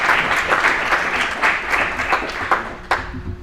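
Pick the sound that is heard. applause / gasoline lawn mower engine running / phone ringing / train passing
applause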